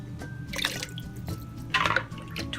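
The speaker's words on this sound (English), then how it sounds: "Now add the same amount of lemon juice." Lemon juice pours into a pitcher of sugar water in a kitchen, giving soft splashy trickles and drips in two short bursts, close and fairly quiet.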